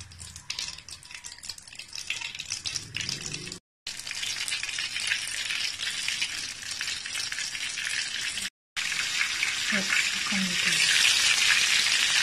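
Chicken pieces coated in corn flakes fry in canola oil with a continuous, loud sizzle, briefly interrupted twice by short gaps, and a faint voice is heard near the end.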